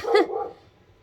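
A single sharp dog bark close by, a short loud woof that fades quickly into quiet indoor silence.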